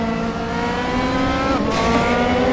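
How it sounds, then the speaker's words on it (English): DTM race car at Imola running with DRS deployed, a loud sustained engine drone holding steady pitch with a brief shift partway through, close and continuous with no talk. "there you can hear that DRS being deployed"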